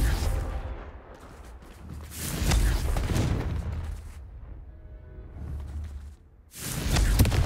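In Hogwarts Legacy, Confringo blasting spells crack out as repeated sharp bursts, with a strong blast near the start, another around the middle and a final loud one at the end, over a rumbling game backdrop.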